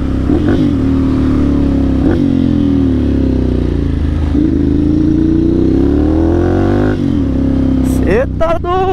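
Ducati motorcycle engine revving repeatedly, a deep loud growl that rises and falls in pitch with each throttle blip, heard close while someone talks over it.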